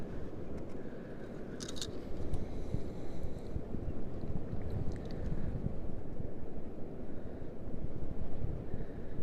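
Wind blowing outdoors at night on muddy ground, heard as a steady low rumbling buffet against the microphone for the whole stretch, with no one talking.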